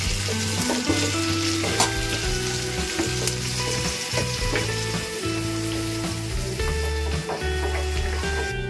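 Chopped tomato frying in a pan for a spicy tangra fish and eggplant curry, a steady loud sizzle with stirring clatter and scraping throughout, close and continuous with no talk.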